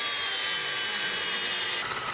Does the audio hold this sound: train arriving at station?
no